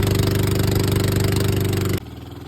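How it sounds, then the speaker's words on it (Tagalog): Fishing boat engine running steadily with a loud, dense mechanical chug for two seconds, then abruptly cutting to a quieter, lighter idle; no talk. "siya yung papaandar at magmamaneho ng bangka."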